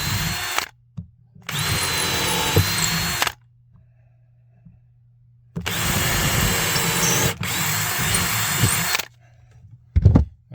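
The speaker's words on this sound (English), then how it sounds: "Now we're just going to drill them up so they'll hold on here to the drywall." A power drill drives screws through boards into drywall in bursts of several seconds each, loud and close, with whirring pauses of quiet and a short tap near the end; no talk.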